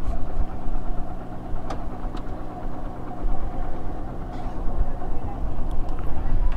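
Motorbike engine idling while the bikes are parked at Oyster Rocks near China Port, Karachi, a steady close low rumble with light knocking throughout, with people talking over it.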